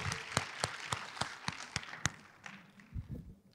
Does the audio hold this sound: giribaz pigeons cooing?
no